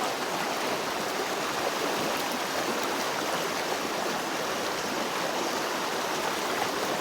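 A fast-flowing river stream rushes steadily and loudly throughout, a constant broadband wash of water with no pauses, heard up close while out on a trail.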